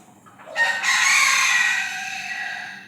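A rooster crows close by, a loud drawn-out call rising and then trailing off, among farmyard chickens, with no voices.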